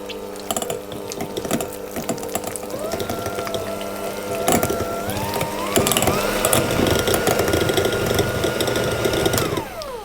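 A whisk runs through butter, cream cheese and vanilla for frosting, a steady rattling mechanical whir that continues for about ten seconds with a slight pitch rise partway through, with no voice heard.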